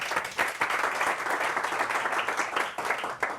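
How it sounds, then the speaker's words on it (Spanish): Audience applause greeting a Tanqueray Ten presenter at the IBAA 2012 event, steady dense clapping from a sizable crowd filling the whole stretch at even loudness. "Un aplauso muy grande."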